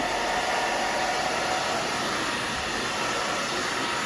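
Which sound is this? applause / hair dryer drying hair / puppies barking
hair dryer drying hair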